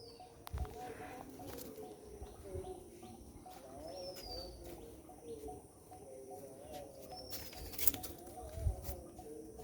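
Pigeons perched on a rooftop coo in low, soft, repeated calls over steady outdoor ambience, with a couple of brief higher chirps and faint background noise.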